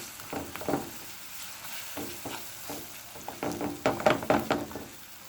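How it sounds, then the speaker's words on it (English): Jackfruit curry fries in a pan, a low sizzle under bursts of stirring and scraping, clustered knocks of the utensil growing busier toward the end; close, with no voices. "we're just gonna let this fry for about 5 minutes"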